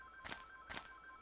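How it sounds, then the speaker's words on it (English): A landline telephone plugged into the wall rings in a Minecraft let's-play, two short bright electronic trills a little under half a second apart, fairly quiet and heard alone. "That's a telephone. It's plugged into the wall."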